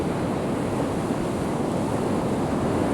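Baltic Sea surf at Kołobrzeg rolls in as a dense, constant wash of breaking waves, loud and close, with wind buffeting the microphone and no voices.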